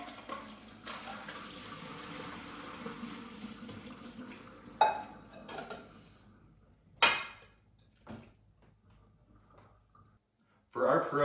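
Boiled pierogies strained in a kitchen sink: a steady pour of water for several seconds, followed by scattered clanks and splashes of a pot and strainer.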